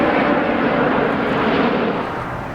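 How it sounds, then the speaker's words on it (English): A Qatar Airways Airbus A350 airliner flies low and slow past the crowd at Farnborough Airshow, producing a loud, broad, continuous jet roar that eases slightly toward the end. "This huge airliner drifting past gently, 112 knots, just about 600 feet."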